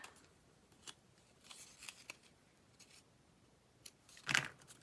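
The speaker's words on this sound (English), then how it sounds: "snip off those little bits again." Small scissors snip excess bits off a paper craft tag, a few quiet, crisp cuts spread out with faint handling rustle and one louder sharp snip near the end.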